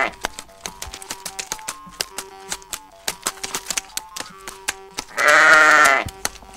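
A cartoon sheep bleats once in a long, wavering cry near the end, driven along in a Kyrgyz animated mountain folk tale, after a run of sharp, scattered clicks and taps.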